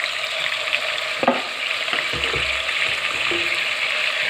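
Mutton liver frying in a pan as ginger garlic paste is added, giving a steady sizzle with a few stirring clatters and soft thumps. Close and moderately loud, with no talk.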